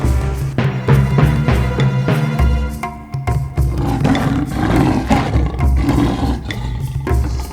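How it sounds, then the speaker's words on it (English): A lion roars loudly and close, deep and rumbling, in repeated heavy bursts that carry on for several seconds with no talking. "Oh, the lion's on the table."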